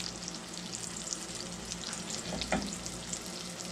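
Cubed pork cutlets frying in oil in a cast iron pan, a close, continuous crackling sizzle with a brief louder spatter near the middle, alone without voices.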